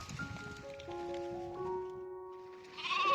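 Several sheep from a grazing flock bleat in overlapping, drawn-out calls, some near and some farther off, over a soft outdoor rustle.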